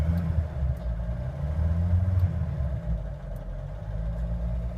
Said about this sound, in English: You can see she starts straight up.